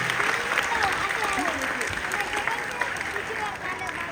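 An audience at a satsang gathering in Mira Road breaks into sustained applause, a dense, even wash of clapping from many hands throughout.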